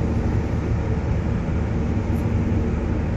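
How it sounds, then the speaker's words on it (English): A large compressor in a therapy pool water treatment plant runs with a steady, dense mechanical drone and hum, continuous and close with no pauses. "We got a compressor, a huge thing on the back"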